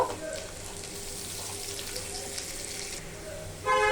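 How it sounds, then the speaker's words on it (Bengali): Chopped garlic and onion frying in oil in a pan, a steady soft hiss and sizzle heard up close. Someone talks over the sizzling. "রসুন কুচি অল্প, আর একটু পেঁয়াজ কুচি দিয়ে দিলাম। দিয়ে একটু ভেজে নেব।"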